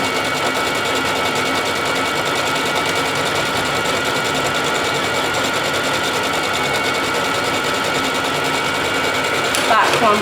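A Brother JV1400 sewing machine stitches scrap fabric with a fast, steady mechanical whirr and rapid needle clatter running continuously and close, ending with a brief clunk.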